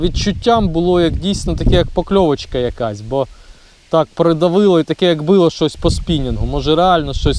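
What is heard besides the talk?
No distinct noise like a dog, phone or traffic.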